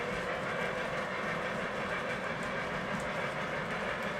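Model trains run steadily over foam roadbed on a home layout, a continuous low rumble with soft clickety-clack of wheels at a moderate distance, alone without talk.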